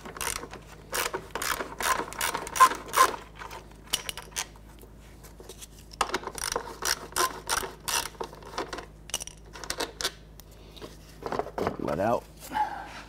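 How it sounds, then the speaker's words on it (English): Ratchet with a 10mm socket loosening radiator bolts on a 2009-2015 Honda Pilot, heard as repeated short bursts of quick metallic clicking with pauses between strokes, close by and fairly quiet. "Using our 10mm socket, let's go ahead and loosen and remove"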